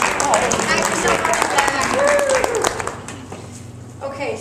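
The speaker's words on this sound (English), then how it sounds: "And you get a round of applause." Audience claps for participants just named at a group event, a fairly close burst of dense clapping under cheering and chatter that thins out after a few seconds as a voice speaks.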